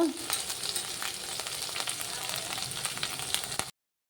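Onions frying in a pan until light brown, a steady crackling sizzle with occasional stirring scrapes, close and fairly soft, continuing without talk before cutting off abruptly near the end.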